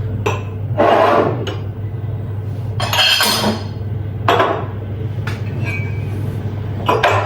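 Glass bowls and plates clink and knock as they are set down and stacked into a cupboard, coming in several separate bursts of bright chinks over a low steady hum, close by and fairly loud.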